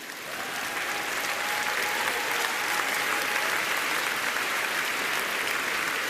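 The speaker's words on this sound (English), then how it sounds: "Let's applaud them once again." An audience applauds graduates at a business school graduation ceremony, with steady, dense clapping that fills the hall evenly throughout and no voices over it.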